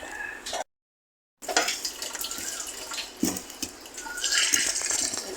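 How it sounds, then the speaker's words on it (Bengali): Hot water being poured from a pot into rice flour for chitoi pitha, a steady close splashing and trickling stream with a brief break near the start, then continuing and swelling slightly toward the end. "পানিগুলো এখন ঢেলে দেবে গুঁড়ির মধ্যে"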